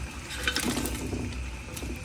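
Half-cooked mutton with its cooking water poured into a pot for Telangana-style Thalapakatti mutton biryani, a steady close splashing and pouring of liquid lasting about two seconds with no talk.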